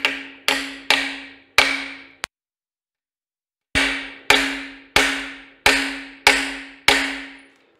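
Sharp metallic hammer blows drive a socket against a part in the steering of a 1940 Chevy coupe, four evenly spaced ringing strikes, a pause, then six more in steady rhythm, loud and close.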